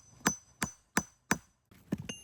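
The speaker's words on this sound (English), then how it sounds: "hit it with a hammer to break it" Four evenly spaced, sharp metallic strikes of a hammer on a cold chisel cutting into a brick, then a softer cluster of knocks and a crack as the brick gives way, close and fairly loud.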